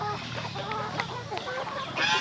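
Several farm chickens cluck and chatter close by in a continuous, busy flock sound, with short sharper calls standing out now and then and a few brief bird notes mixed in.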